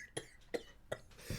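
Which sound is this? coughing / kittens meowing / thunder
coughing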